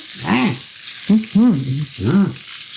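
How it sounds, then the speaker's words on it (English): Chicken browns in a hot pan with a continuous sizzling hiss, broken by several short, warbling tonal bursts heard close up. "Ooh, it's starting to brown."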